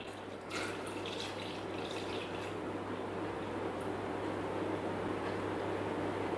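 A litre of milk pours steadily into a Thermomix bowl in a home kitchen, a soft continuous liquid rush over a low appliance hum, with no talking.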